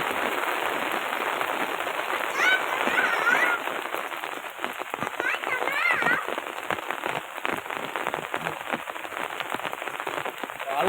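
Heavy rain pours down in Rajula, a dense, crackling patter on surfaces that stays loud and continuous with slight surges in intensity.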